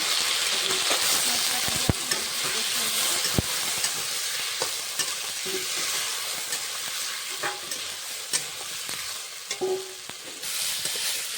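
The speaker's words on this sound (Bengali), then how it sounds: "মশলাটা দিয়ে কষানো হয়ে গেছে। দিয়ে দেবো টমেটো দিয়েছি, টমেটোর সঙ্গে কষিয়ে নেব।" A pan of ground chili, ginger, spices and tomato sizzles steadily throughout, with intermittent scrapes and taps of stirring, fairly close and loud.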